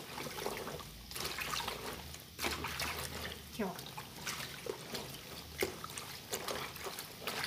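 Dirty soapy water is poured out of a basin after hand-washing clothes, trickling and splashing in short irregular bursts close by while someone talks over it.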